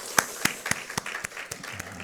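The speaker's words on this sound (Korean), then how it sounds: "우리 찬송 가운데 임하신 하나님께 감사와 영광의 박수 올려드리겠습니다" Church congregation clapping together during a Sunday morning Korean worship service, a slow, evenly spaced rhythm of sharp unison claps, about two per second, moderately soft and fairly close.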